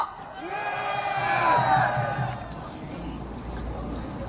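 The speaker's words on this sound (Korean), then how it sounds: "큰 함성으로 맞아주십시오" A large crowd at a patriotic Taegeukgi rally in Seoul Station plaza roars and whoops, a loud swelling cheer with shouting voices that peaks midway and then settles into a lower murmur.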